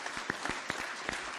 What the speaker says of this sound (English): We can have a good round of applause for them